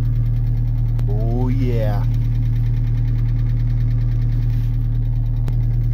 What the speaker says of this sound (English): this is supposed to make your exhaust smell like cherries, and it's gonna sound like a bomb